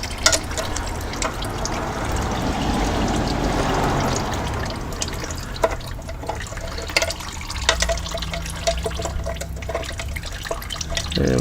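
Automatic transmission fluid from a Landcruiser A440F/A442F gearbox pours and drips steadily into a pan, a continuous liquid splatter with scattered drips and light clinks.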